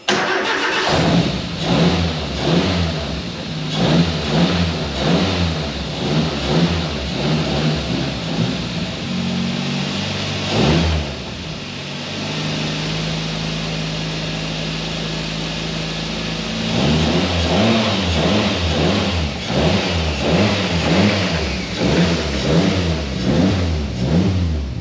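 A Nissan Micra Super Turbo cranks and fires up, then runs with a lumpy rhythmic idle, blips of revving, and a steadier stretch mid-clip before the pulsing engine note returns, loud and close outdoors.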